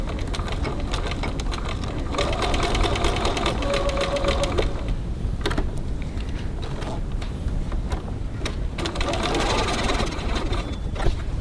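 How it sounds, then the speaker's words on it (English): Sewing machine top stitching and back tacking across the bottom of a small slip-and-zip wallet, a continuous rapid mechanical whir with brief pauses and shifts in pace, loud and close. "Stitching across this bottom, and I'm going to back tack here just to make it extra secure."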